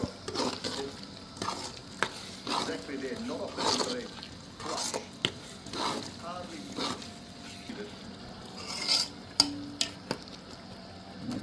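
Red chili powder is stirred into a frying sev masala, with intermittent spoon scrapes and soft sizzling throughout and a voice talking lightly over it.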